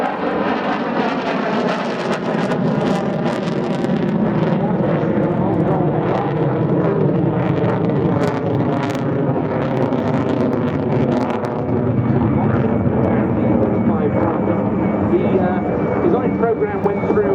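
A Saab Viggen AJS37 jet fighter performing a looping display at the Waddington Airshow 2013, its steady roaring engine sustained throughout, with a commentator talking over it.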